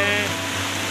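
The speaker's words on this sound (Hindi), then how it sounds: "छोटे झरने" Small waterfalls running through dense mountain forest on a cloud-covered trek route, heard as a steady, fairly loud broadband rush of water with no talking over it.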